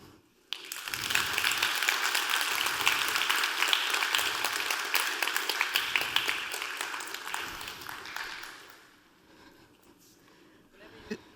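An audience at a talk breaks into sustained applause, dense clapping that swells quickly, holds for several seconds, then fades to scattered claps.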